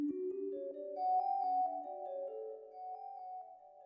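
A sampled kalimba plays a clear, plucked melody of bright tones stepping upward, each note blooming with echo and reverb that blur into a soft, lingering wash.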